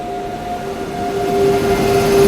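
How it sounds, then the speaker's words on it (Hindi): Upasana Express overtaking on the adjacent track beside a special express train, a loud steady rail roar with a sustained tonal whine that grows louder as it passes. "उपासना एक्सप्रेस अब हम लोग को ओवरटेक करके जा रही है।"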